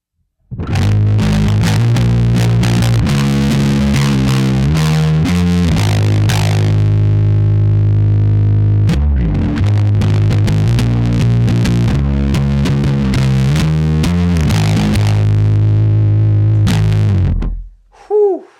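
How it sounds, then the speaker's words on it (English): Bass guitar picked hard through heavy distortion from an EarthQuaker Devices Chelsea pedal, thick sustained notes and chords playing steadily for about seventeen seconds, loud and close, no voices. "you can't go wrong with using a pick and tons of drive or tons of distortion with a bass"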